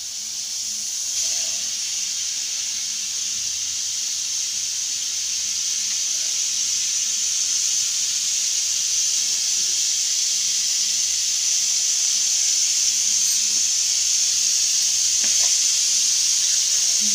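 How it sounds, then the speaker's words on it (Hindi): A pressure cooker on a gas stove hisses continuously while its whistle builds during pav bhaji cooking, a steady, bright steam hiss that grows slightly louder over about seventeen seconds. "देखिएगा कुकर में सीटी आ रही है।"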